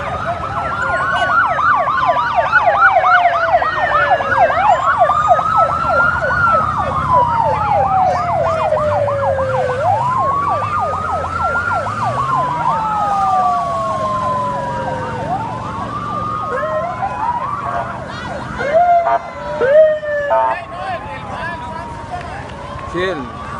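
An ambulance siren wails in repeated rising and falling sweeps after a motorcyclist's crash during the Vuelta a Costa Rica cycling race, loud and steady over traffic noise, with people talking nearby.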